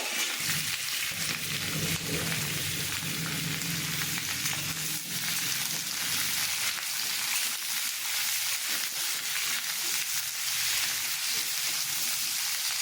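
Pumpkin, ivy gourd and mixed vegetables fry steadily in hot oil for a Bengali labra, a dense and even sizzle that runs without pause, with no voices over it.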